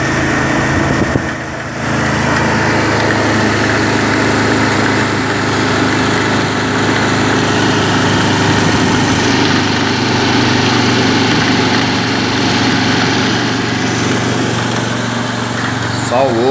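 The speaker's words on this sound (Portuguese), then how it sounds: "Sem barulho, só o do motor, ó." A 110cc tricycle motor idles steadily and continuously, a low droning hum with a slight rattle, while someone talks over it.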